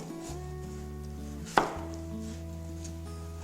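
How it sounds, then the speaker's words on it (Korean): A kitchen knife cuts a potato into quarters on a cutting board, giving one sharp chop midway over a steady background hum with no talking. "감자는 크게 4등분으로 썰겠습니다."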